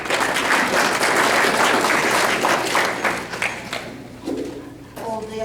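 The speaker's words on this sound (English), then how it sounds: "Hold the applause till both have spoken." Audience applause at a Broadwater County candidates forum after a candidate's remarks, dense clapping that fades out over several seconds before a voice begins speaking.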